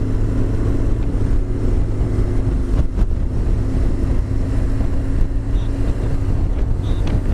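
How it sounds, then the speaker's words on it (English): A motorcycle engine revs on a road trip across Europe, a steady loud mechanical drone held throughout with constant wind rush over the microphone and no clear rise-and-fall of separate revs. "Go on, give it a rev."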